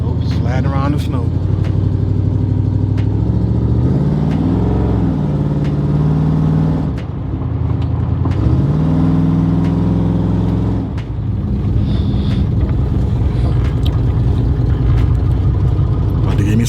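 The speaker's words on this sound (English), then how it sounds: "I want y'all to hear this motor, man." Chevy El Camino V8 engine idling and revving in the snow, a loud, close, rumbling exhaust with two distinct rev swells rising and falling over a steady growl, with someone talking over it at times.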